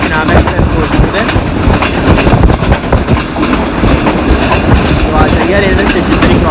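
Riding aboard a CRRC Tangshan coach attached to the Millat Express, a loud, continuous rumble of rolling wheels and rhythmic rail clatter fills the cabin, with faint voices mixed in.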